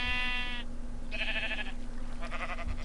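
Sheep in a Minecraft-style video game bleat in three drawn-out, wavering calls, clear and fairly loud over a steady background hum, with no speech.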